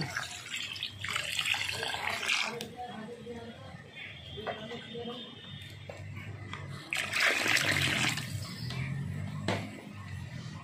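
Water is poured into a cooking pot of potatoes and spices for a spicy prawn curry, making a close splashing, trickling pour in irregular bursts, louder near the end, with low kitchen noise.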